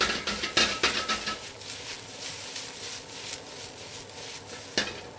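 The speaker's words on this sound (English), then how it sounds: "Now the tossing helps those vegetables to come up into that vapor to create that wok hei" Baby bok choy and garlic tossed in a hot wok over a high flame: a quick run of clattering metal knocks and scrapes, then a steady sizzle with one more clank near the end, close and without speech.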